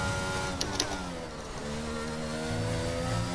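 Formula 1 car engine in the video game F1 22, a steady high-pitched whine with rising harmonics as the car accelerates, continuous and fairly loud with no speech over it.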